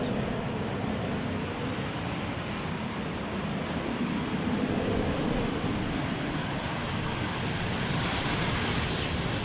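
A 23-year-old Boeing 737-800 airliner arriving from Antalya at Amsterdam Schiphol, runway 18R, gives a steady, fairly loud broadband jet roar that holds evenly throughout, with wind noise and no voices.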